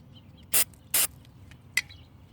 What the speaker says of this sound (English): I'm going to hit this sensor with a little carbon choke cleaner.